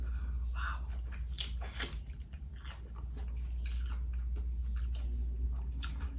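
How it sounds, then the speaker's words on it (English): Shell-on shrimp, sausage and potatoes are bitten and chewed up close, giving moist crunches and squishy mastication in irregular bursts over a low steady hum. "Shrimp's so good, I bit a piece of the shell"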